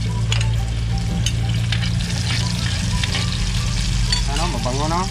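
Sliced onions sizzle and fry in a hot pan for Filipino ginisang bagoong isda, a steady loud crackle with stirring scrapes throughout and a voice speaking briefly over it.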